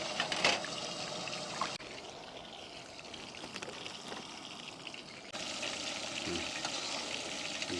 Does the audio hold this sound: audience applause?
no